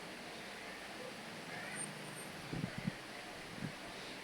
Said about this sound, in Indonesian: Ada kipas di belakang ya.